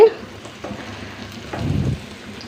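Mango thokku being sautéed and stirred in a pan, a low steady sizzle with a brief louder burst of stirring and scraping near the end.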